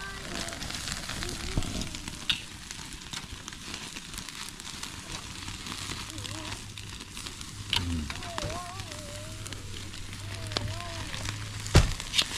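Meat sizzling over a strong fire and glowing embers outdoors at a campsite, a continuous crackling hiss with occasional pops, beneath people talking.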